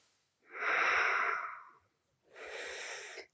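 Two slow, audible breaths during a Hatha yoga pose: a long airy inhale lasting over a second, a short pause, then a second breath, both close and soft with nothing else heard.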